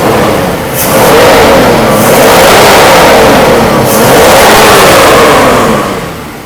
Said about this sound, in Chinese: 引擎是完全顺畅。